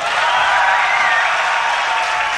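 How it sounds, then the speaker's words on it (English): A large crowd at a DreamHack StarCraft esports event cheers and applauds in a dense, steady roar that stays loud throughout. "That cheering was highly imbalanced."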